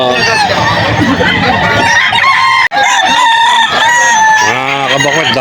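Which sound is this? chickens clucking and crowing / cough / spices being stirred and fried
chickens clucking and crowing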